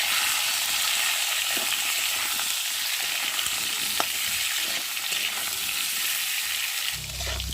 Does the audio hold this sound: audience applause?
no